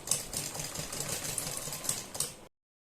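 A sewing machine runs a line of stitches along a folded-in fabric strip on a boat-neck blouse, a quiet, rapid, rhythmic chatter lasting about two seconds before going silent.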